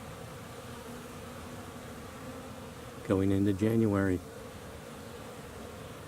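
Honeybees buzzing at a beehive on a mild January day, a steady low hum running through the whole stretch, with a person briefly speaking over it midway.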